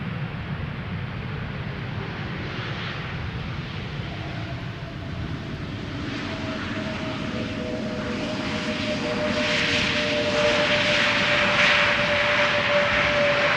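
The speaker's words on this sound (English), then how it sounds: "JetBlue flight 631 arriving from Boston, Massachusetts, where it left from 6 hours and 10 minutes ago. A321neo, 2 years old," A two-year-old JetBlue Airbus A321neo arriving from Boston at Schiphol rumbles overhead as a continuous jet roar that slowly swells louder, with a faint whine gliding through the middle.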